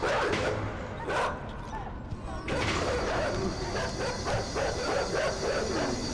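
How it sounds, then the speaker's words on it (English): Dogs in a video game bark and yip repeatedly in loud bursts, with some whimpering, while someone talks over the game audio. "Shut up, you damn dogs."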